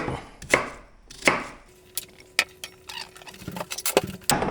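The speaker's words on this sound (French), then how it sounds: "Là, je viens de finir de couper mes pommes. Je les coupe en morceaux." Apples being cut into pieces for apple compote, a knife striking a cutting board in a few sharp, close chops, separated at first and then quicker and lighter toward the end, with no talking.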